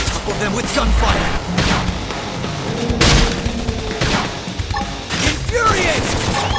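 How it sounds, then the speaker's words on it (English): Combat gunfire in the video game Xenoblade Chronicles X Definitive Edition: loud volleys of rapid shots with heavy thumps and booms, dense and continuous throughout, mixed with other battle effects. "Now, if we can just topple them with gunfire!"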